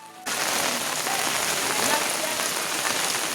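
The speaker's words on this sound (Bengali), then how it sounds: "সকালে এই গ্রাম বাংলার বৃষ্টি যেন নতুন শুরুর সূচনা করে" Morning rain falls in a Bengal village, starting abruptly and then holding as an even, dense patter of drops on surfaces, close and steady, with no talking.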